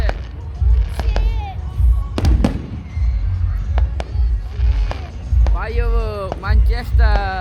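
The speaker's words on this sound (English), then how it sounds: "Firework, Manchester." Bonfire night fireworks in Manchester go off as several sharp bangs and crackles at irregular intervals, set against low crowd rumble with voices and children speaking throughout.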